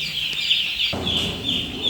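Several chicks peep in a rapid, high-pitched chorus of repeated chirps, close and continuous, with a soft thump partway through, after being moved from newspaper onto rice husk bedding.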